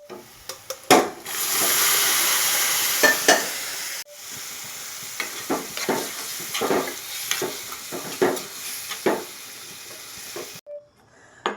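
Hot spiced oil is poured into a simmering chickpea curry, giving a sharp burst of sizzling and hissing, then intermittent crackles and stirring clatter against the pot.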